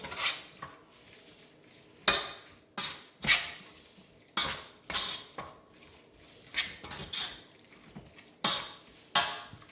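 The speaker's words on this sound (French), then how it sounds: "Donc là, on mélange le tout." A spoon stirs flour into a tuna pie filling in a bowl, giving irregular sharp clinks and scrapes against the dish with quiet pauses between strokes.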